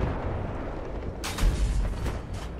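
A tank cannon shell fires in the Battlefield 4 campaign, Singapore mission, as a deep muffled boom with a sharp burst midway, set against a low rumbling battle background.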